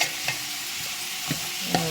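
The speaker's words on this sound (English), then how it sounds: "So we're gonna just let that sizzle" A steady, loud sizzle of curry goat frying in a hot pan, with a few scraping stirs breaking through the constant hiss.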